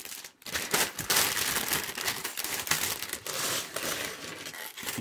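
Plastic bags of Lego parts for the Creator Expert 10278 Police Station set are torn open, giving continuous close crinkling and crackling with a few sharper rips, heard alone.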